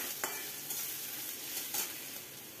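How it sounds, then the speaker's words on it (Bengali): Potato pieces frying in hot oil with cumin and green chillies, a steady close sizzle broken by a few scraping stirs of the spoon. "আলুর টুকরোগুলো দিয়ে মিনিট খানেক ভালো করে ভেজে নেব।"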